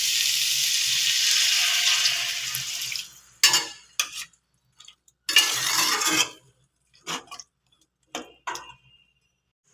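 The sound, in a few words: water being poured into a pan of vegetables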